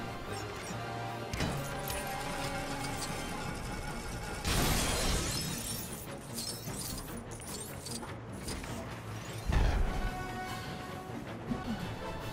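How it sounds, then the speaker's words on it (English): Glass shattering loudly as Hawkeye smashes a glass door in LEGO Marvel Avengers, with a sharp crash around the middle over steady game music and a second breaking burst later. "Now switch to Hawkeye and break the glass door"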